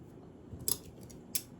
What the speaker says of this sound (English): then we're going to cut off the extra